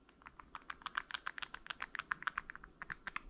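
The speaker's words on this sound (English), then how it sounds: "that clicking noise was making kind of a rattling, like almost a vibration on the car" A worn bearing in a Spektrum 3200kv brushless RC motor gives off rapid, faint clicking, a steady stream of small ticks packed closely together over a quiet background.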